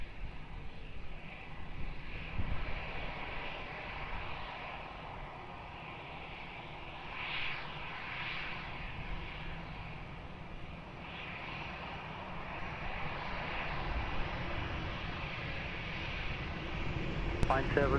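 A faint, steady jet engine drone carries across Lisbon Airport as a plane takes off from runway 20, distant and low throughout with gentle swells in level.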